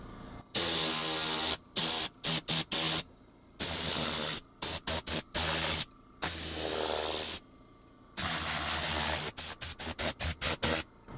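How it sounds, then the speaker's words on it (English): A Tornador air-blowing cleaning tool blasts dust off car interior panels and vents, loud close bursts of hissing compressed air in repeated on-off pulses, some long and some short rapid spurts. "You can blow off all the dust off of all the panels."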